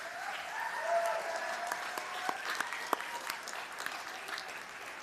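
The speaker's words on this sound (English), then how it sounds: "give a round of applause to the people who supported and encouraged you throughout the law school" Crowd applause fills the hall at the University of Toledo College of Law spring 2023 commencement ceremony, a steady, sustained wash of many hands clapping with scattered sharper claps, heard from a moderate distance.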